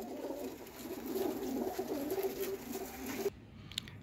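Pigeons coo steadily in a low, rolling chorus that runs without a break for about three seconds and then stops abruptly. These are Teddy cross high-flyer pigeons, kept in a loft.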